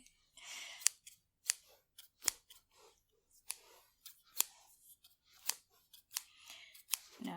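Scissors snipping hair during a close-up ASMR haircut: crisp, quiet metallic snips come one by one in an irregular rhythm, with soft brushing rustles between some cuts.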